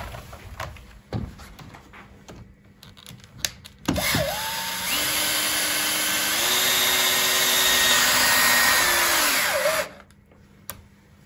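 A power screwdriver drives a 70 millimeter screw into a wooden acoustic panel, its motor whirring loud and close for about six seconds with rising pitch, framed by a few handling knocks before and after.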